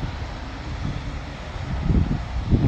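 Wind rushes and buffets the microphone at a window by a truck parking area in Padborg, Denmark, with a low rumble, growing gustier toward the end.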